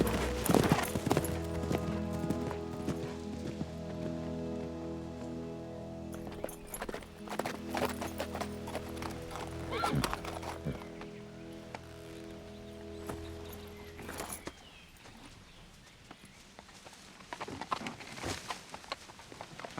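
Horse hooves clip-clop at a steady walking pace, close and clear, with a brief whinny early on and harness or tack rattling alongside; no one speaks over it.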